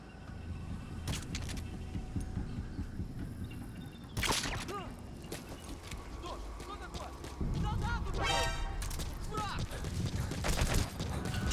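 Enemy gunfire in Metal Gear Solid V, heard as scattered shots and sharp impacts under steady ambient noise, with a louder burst near four seconds and a rattling volley later on, while a voice talks over it.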